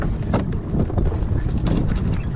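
Wind buffeting the microphone while sailing a small dinghy, a loud rough continuous rumble with gusty surges and some splashing, no voices.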